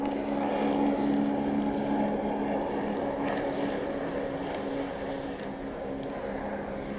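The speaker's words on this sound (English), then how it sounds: "Let you hear that jet ski going." A jet ski drones steadily at a distance on Folsom Lake, a continuous engine hum that slowly fades slightly over several seconds.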